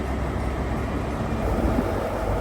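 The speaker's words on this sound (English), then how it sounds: "That's the 1346 service going down to Glasgow Queen Street." A ScotRail Class 43 HST, the former Intercity 125, on a service to Glasgow Queen Street, giving a loud, steady low rumble of engine and wheels heard close by with no voices.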